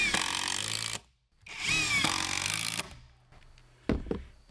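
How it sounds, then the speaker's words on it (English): A power drill drives screws into wooden wall framing for a shop, with two sustained whirring bursts separated by a short pause, then a brief clunk and quieter handling at the end, close up. "now I'm just going to use some screws to hold this together"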